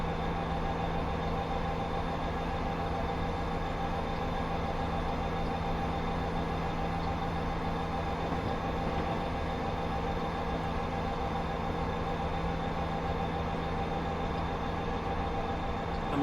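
SD60M freight locomotive pulling a long train on Sherman Hill, heard as a steady, continuous rumble and drone of engine and rolling wagons with a constant hum, no pauses and no voices.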